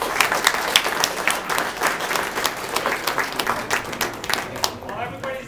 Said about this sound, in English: While everybody's applauding